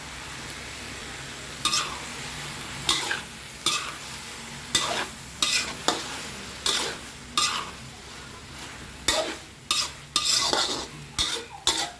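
Pork, meatballs, enoki mushrooms and napa cabbage being stir-fried with chili, heard as a steady sizzle broken by regular loud scraping strokes of a utensil against the pan, close and without talk.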